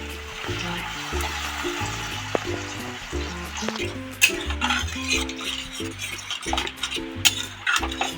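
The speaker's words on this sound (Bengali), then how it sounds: "এবারে আমি জল দিয়ে দেবো।" Water poured into fried spice masala in a pan for a fish egg curry, bursts of sizzling and bubbling with clinks of utensils and stirring, over background music tones.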